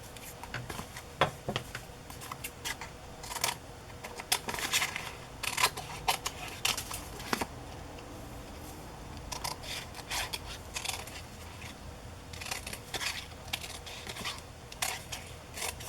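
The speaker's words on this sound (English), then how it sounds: "Maybe I'll cut 2 pieces off of this envelope that came in the mail." Scissors cutting a paper envelope from the mail: a series of quick, crisp snips and paper rustles in irregular clusters, close and fairly quiet, with brief pauses between runs of cuts.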